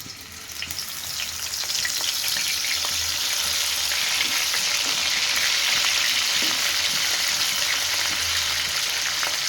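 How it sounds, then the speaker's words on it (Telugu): Bommidi fish fry in hot oil, giving a loud, steady sizzle that swells over the first couple of seconds and then holds, close and continuous, with no voices. "ఫస్ట్ బొమ్మిడి చేపలు వేయించుకుందాం"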